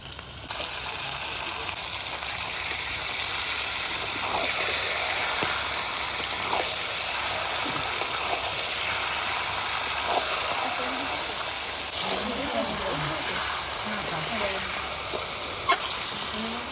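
Duck meat hits spiced oil in a pan, producing a loud, continuous sizzle and hiss close up that holds steady the whole time, with a voice briefly audible in the background.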